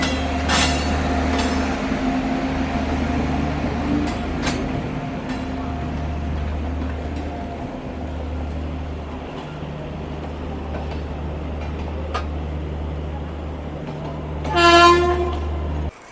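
A Duronto Express train pulls out of Hazrat Nizamuddin station in Delhi, heading for Nagpur. A steady low rumble of rolling cars runs throughout, with clacks and squeals, and a brief loud horn blast near the end.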